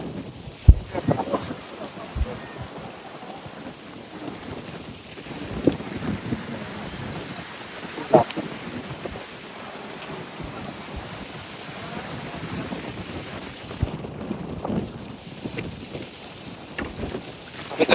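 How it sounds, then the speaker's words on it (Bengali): Strong storm wind gusts and rain buffet a boat on a river, a continuous rough rush with occasional sharper thumps and bursts over about eighteen seconds. "দেখতে পাচ্ছেন কি বাতাস, বাতাসে নৌকাটা কন্ট্রোল হচ্ছে না"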